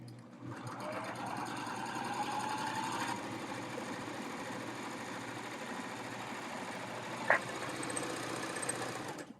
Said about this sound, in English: So let's do that and serge another tuck